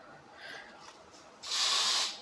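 An aerosol spray can sprays in one steady hiss of about a second, close and loud, after a stretch of faint background noise.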